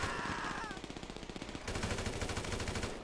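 Rapid automatic gunfire in the video game Grand Theft Auto V, with repeated bursts of sharp, evenly spaced shots continuing throughout, loud and close.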